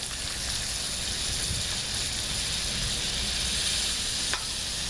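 A tablespoon of butter melting in a hot pan on a camper van stove, giving an even, continuous crackling sizzle with one sharp tick near the end and no voices.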